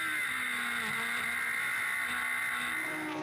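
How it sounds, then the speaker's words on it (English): A Suzuki-powered Radical PR6 racing car engine screams at high revs continuously, loud and close, with a steady whine and slight pitch shifts as it powers along during a race at Snetterton. "You can hear just how hard that Suzuki engine is powering the Radical PR6."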